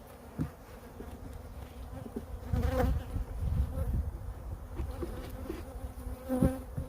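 Honey bees drone in a large hive box holding only a small colony: a continuous, close, low buzzing with individual bees flying past, and no talking.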